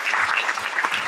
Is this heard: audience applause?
yes